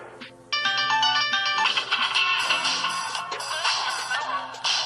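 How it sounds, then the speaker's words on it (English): A bright electronic ringtone melody from an LG Optimus V mobile phone plays in repeated tonal bursts, then gives way to a denser, busier ring pattern, clear and close with no talking. "Here we're gonna see there's ringtones."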